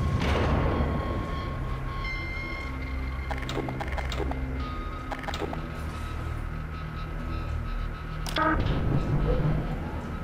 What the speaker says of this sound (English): he's changing the direction of the tram for us.